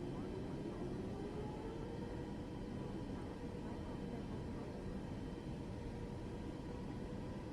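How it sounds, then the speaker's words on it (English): A Microsoft Flight Simulator 2024 aircraft engine drones in a continuous low roar with a slowly rising tonal whine, steady and fairly quiet throughout. "the aircraft audio has been so improved from 2020"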